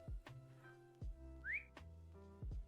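A mount-summoning whistle in the Lord of the Rings Online video game, a short rising whistled note heard once among a few soft thumps and other game sounds, fairly quiet.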